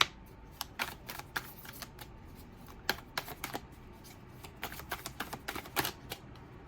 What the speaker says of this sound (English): I have to be mindful of how I shuffle so they don't go all over the place